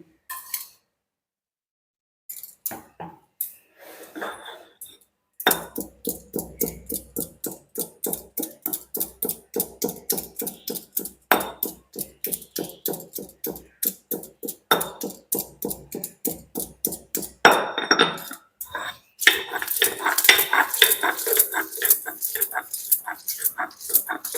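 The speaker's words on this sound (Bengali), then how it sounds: "রসুন আদা একসাথে আমি বেটে নেব।" Garlic and ginger ground together into paste, a fast rhythmic run of rasping, grinding strokes that starts after a short pause and grows louder and harsher toward the end.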